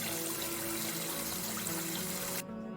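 Water runs steadily into a cooling pan holding homebrewed IPA wort and bottles of ice, a continuous close pouring wash that cuts off abruptly near the end.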